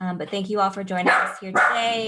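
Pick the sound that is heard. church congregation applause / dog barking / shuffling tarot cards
dog barking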